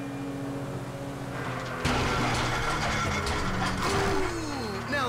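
Boat engine in GTA 5 sputtering and struggling, a loud mechanical rattling and grinding that swells partway through and keeps churning to the end, with a faint voice in the background.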